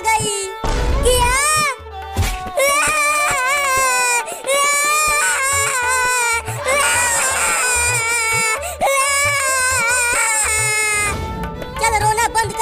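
A cartoon character named Chintu cries loudly in a sobbing, wailing voice, the bawling coming in repeated drawn-out bursts with short breaks and whimpers between them, close and prominent throughout.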